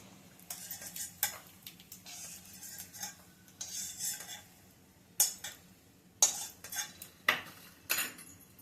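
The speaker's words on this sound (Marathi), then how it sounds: "हे काढून घेते मी शेंगदाणे आणि ते खोबऱ्याचे काप." Metal utensil scrapes and clinks in a pan while fried peanuts and coconut slices are lifted out during kande pohe cooking, a series of sharp, separate scraping strokes over a faint sizzling background.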